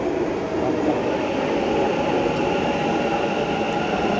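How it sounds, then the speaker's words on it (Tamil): Continuous rumbling roar of an arriving metro train, steady and loud, with faint rail noise and no talking. "ஓகே, வாங்க நம்ம ட்ரெயின் வந்தாச்சு"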